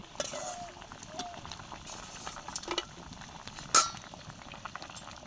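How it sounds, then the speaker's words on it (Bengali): Fried tangra fish goes into a simmering potato curry in a pan, giving soft bubbling and stirring noises, a few faint scrapes and a single sharp metallic clink near the end. "ভেজে রাখা ট্যাংরা মাছগুলো তরকারিতে দিয়ে দিচ্ছি"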